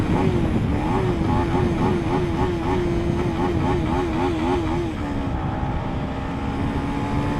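A KTM Duke 250 motorcycle runs at top speed, its engine note rising and falling in a wavering whine over heavy wind roar, loud and close throughout.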